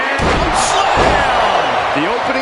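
A body slam in a wrestling video game on PS4, a heavy thud impact at the start followed by crowd noise and game commentary continuing over it.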